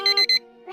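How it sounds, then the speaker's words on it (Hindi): An alarm clock rings in a quick burst of bright, repeated electronic beeps, loud and close, cutting off abruptly. "अलार्म बजने लगा था।"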